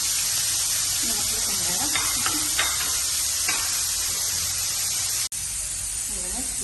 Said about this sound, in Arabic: شويه ديال الزيت، نضربو البصله